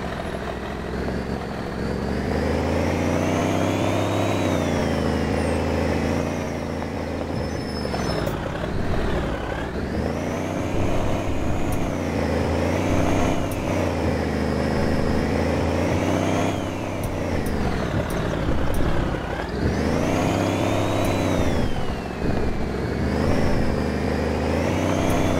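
A heavy truck engine in My Truck Game, a beta driving game, drones steadily and rises and falls in pitch as it revs, with a continuous loud whir and no talk.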